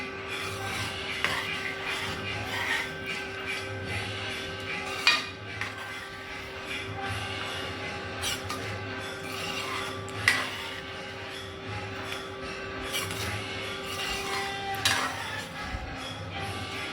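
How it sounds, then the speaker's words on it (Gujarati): A mango and potato mixture with Kashmiri red chili is stirred in a pot, giving soft rhythmic scraping and occasional utensil clinks against metal, close and fairly quiet with no talking. "તો જોઈ શકો છો કે મસ્ત મજાનું આપણે હલાવી દીધું છે"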